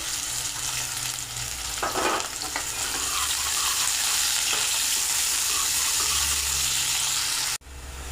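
Onion and garlic sizzle loudly in a hot tempering for a raw mango curry, a continuous close frying hiss broken by stirring scrapes, cutting off abruptly near the end with no talk.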